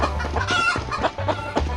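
Game chickens clucking in the Stickman Party video game, with several short bird calls and a rooster-like tone in quick irregular bursts over a low steady music bed, no talk.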